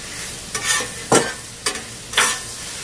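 Steak chunks cook on a hot Blackstone griddle under a low steady sizzle, broken by four sharp, close spatula scrapes and flips spaced about half a second apart, with no talking.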